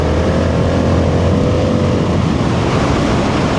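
A BMW G650 XCountry motorcycle engine drones steadily while riding, a loud continuous rumble heavily mixed with rushing wind noise, constant and close throughout with no talking.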